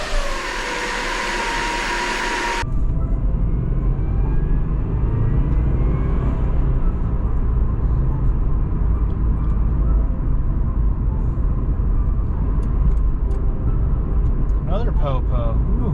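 A 2008 Subaru WRX with an upgraded turbo starts up after a brief burst of noise, then settles into a low, steady rumbling idle close by, with faint higher whines and clicks near the end.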